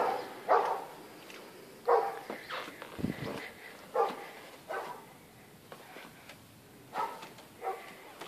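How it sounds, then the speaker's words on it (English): A German Shepherd barks repeatedly from a distance in a residential setting, with spaced single and double barks spread across the clip at moderate volume. "Oh yeah, there's a German Shepherd."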